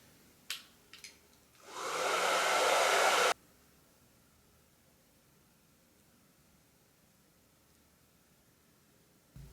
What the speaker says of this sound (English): I am going to heat up the lash curler underneath a blow dryer for a few minutes